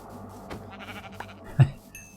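Sheep bleating in a video game, with short bleats rising over a steady buzz of game ambience, and a louder bleat near the end.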